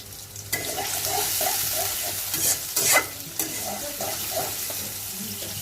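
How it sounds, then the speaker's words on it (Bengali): Steady sizzling of onions frying in oil in a pan, with a utensil stirring and scraping, plus a few louder clatters midway. "তেল আর পেঁয়াজ দিলাম পেঁয়াজটা ভালো করে ভাজবো"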